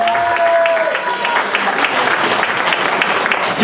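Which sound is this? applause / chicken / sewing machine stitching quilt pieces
applause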